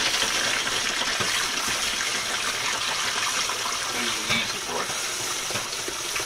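Whey poured into gallon jugs gives a continuous gushing, splashing liquid flow, fairly close and steady with slight variations as the stream fills the containers.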